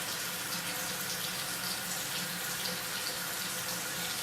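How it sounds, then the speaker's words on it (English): A double edge razor is rinsed under a running tap after shaving a head, giving a steady, even hiss of flowing water close by with no talk. "after every shave, I rinse it with water, because some hair can get stuck between the blade and the silver part"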